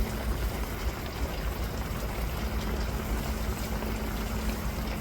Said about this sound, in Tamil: பாருங்கள் வெந்நி கொதிக்க ஆரம்பிச்சிட்டு